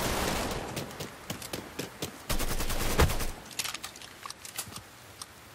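Shootout in the video game Mafia III, with rapid volleys of close, crackling gunshots in dense bursts, a heavy blast near the middle, then sparser shots trailing off.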